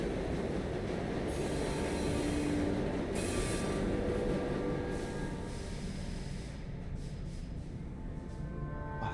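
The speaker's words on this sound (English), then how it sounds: "We have reached the end of the line where this train will terminate." A video game train pulls in at the end of its line, a loud steady rumble of rolling wagons with squealing wheels and brief hiss bursts. The sound fills the whole stretch, with no talking.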